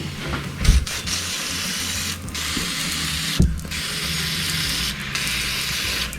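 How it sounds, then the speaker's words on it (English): A steady, close hiss of aerosol brake cleaner sprayed onto the fuel injectors of a 1999 BMW 328i (E46) runs throughout over a low mechanical rumble, broken by a few brief clicks and pauses. "now we're spraying the injectors with brake clean"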